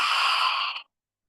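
A forceful, breathy yoga exhale pushed out with the tongue stretched out, a single steady rush of air lasting most of a second before cutting off into silence.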